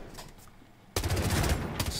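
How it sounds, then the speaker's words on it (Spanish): Automatic gunfire in the tactical shooter Rainbow Six Siege: after a quiet second of low ambience, a loud, dense burst of rapid shots erupts and keeps rattling close up until the end. "Verás ahora el disparo, a ver."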